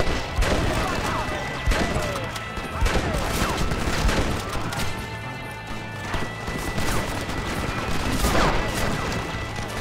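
Video game gunfire, repeated sharp bursts of shots crackling through a busy, loud mix over several seconds, with voices talking underneath.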